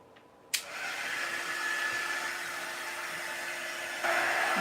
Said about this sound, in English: I could give it a little shot with my heat gun here